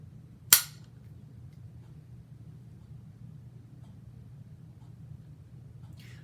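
A single sharp rifle shot cracks once near the start, then fades into a steady low outdoor rumble with no further shots.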